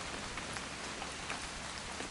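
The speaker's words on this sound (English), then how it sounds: "It's gonna rain the whole weekend, isn't it?" Steady rainfall, a dense continuous hiss of drops striking surfaces, even and moderately loud, with no voices.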